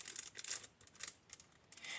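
Faint crinkling and tearing of plastic packaging around a cheap kitchen gadget, in short irregular bursts with quiet gaps between them.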